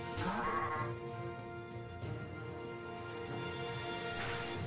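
A sheep Pokémon cries in the video game Pokémon Uranium, a bleating call repeated several times over steady battle music, clear and fairly loud with no one speaking.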